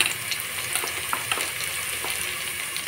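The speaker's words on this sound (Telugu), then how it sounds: "ఇందులో కట్ చేసి అల్లం వెల్లుల్లి వేసుకుని" Chopped ginger and garlic frying with spices in a hot pan, a close, continuous sizzle dotted with small pops and crackles, no voices over it.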